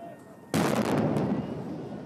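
A sudden loud explosion at an embassy bursts in after near silence, then a sustained roaring rumble and debris noise continue to the end.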